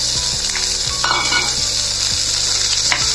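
Onion sizzles loudly in oil in a pan for an amaranth greens palya, a dense continuous frying hiss broken by a few clinks and scrapes of the spatula.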